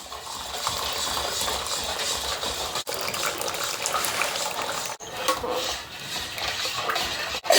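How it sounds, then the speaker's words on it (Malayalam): Hibiscus syrup, just taken off the stove, is poured through a strainer as a steady liquid stream, with a couple of brief clinks and pauses. "ഇനി നമുക്കിതിനെ ഒന്ന് സ്റ്റൗ ഓഫ് ചെയ്ത് അരിച്ചെടുക്കാം."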